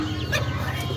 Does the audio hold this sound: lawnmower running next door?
no